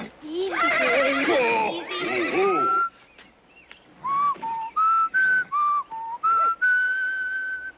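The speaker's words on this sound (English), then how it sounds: "you don't have to teach me that whistle" A horse whinnies loudly, then a person whistles a series of short, clear notes close by, one after another.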